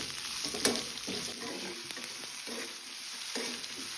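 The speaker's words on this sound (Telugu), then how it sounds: "ఇవి కొంచెం ట్రాన్స్పరెంట్ కలర్ వచ్చే వరకు వేయించుకోవాలి." Green chilies fry and sizzle in a pan for a lunch-box chili and capsicum curry, a steady close hiss with several scraping stirs of a spoon at irregular intervals, no talking.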